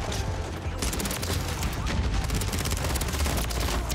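Rapid sustained SMG fire from an ISO 9mm in Modern Warfare III multiplayer, a dense unbroken rattle of close, loud shots filling the whole stretch with no pause.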